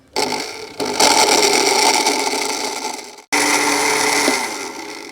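A kitchen blender whirs loudly as it beats a gulkand milkshake packed with ice. It runs in two long steady bursts with a brief stop between them, and no one speaks.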